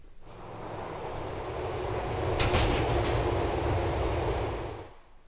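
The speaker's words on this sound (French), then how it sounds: "La cible est dans le métro, suis le métro et élimine-le." A subway train in the video game GTA IV rumbles past, swelling from a distant roar to a loud close pass with a brief metallic screech of wheels, then fading away.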